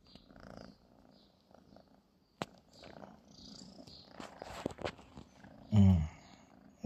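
A cat purring on a sofa, a soft continuous purr close by, broken by small rustles and a few louder low bumps near the end, with no talk.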